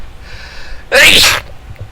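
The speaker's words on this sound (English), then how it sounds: "Oh man, I'm gonna sneeze, excuse me" A single loud, close sneeze follows a brief faint hum, then quiet.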